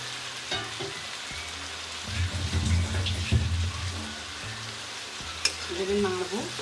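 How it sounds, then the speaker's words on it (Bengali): Ground coriander, cumin and chili powder frying in a pan with a splash of water bubble and hiss steadily, loudest midway, with stirring scrapes and a sharp clink near the end. "এবারে আমি এই যে ধনে জিরে গুঁড়ো আর লঙ্কা গুঁড়োটা আমি দিয়ে দিচ্ছি"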